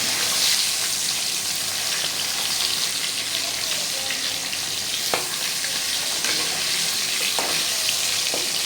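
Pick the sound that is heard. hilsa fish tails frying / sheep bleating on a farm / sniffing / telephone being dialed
hilsa fish tails frying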